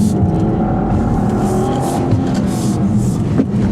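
2015 Volvo V60 T6 accelerating hard at full throttle, a loud, continuous engine drone heard from inside the car with road and tyre roar, the pitch holding steady as it pulls.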